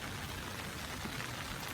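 Steady rain falls on a hot, dry garden, a soft continuous wash of drops and patter with no voices, even and unbroken throughout.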